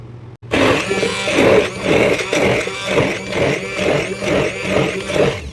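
A blender whirs loudly and steadily with a pulsing, churning rhythm as warm capsicum and tomato are chopped and mixed, running continuously without talk.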